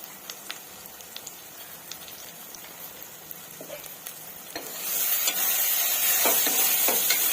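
Spices stirred into a simmering masala vada curry in a pan: scraping spoon clicks over a steady sizzle that swells louder partway through, with no voices.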